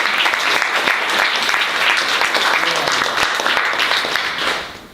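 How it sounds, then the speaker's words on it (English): Loud, sustained applause fills a small bookstore audience at a book launch reading, many hands clapping steadily throughout before tapering off at the very end. "Clap for them."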